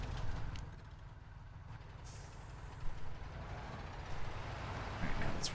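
A big truck engine in a video game, pulling a smaller truck: a low, steady diesel rumble with occasional hissing bursts of air, moderately near and without talk.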